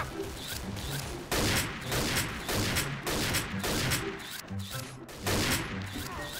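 In the video game XSHOT, an APC-800 sniper rifle is cycled and fired: dense, loud bursts of shots and mechanical clatter in rapid succession, nearly continuous, with a faint voice underneath.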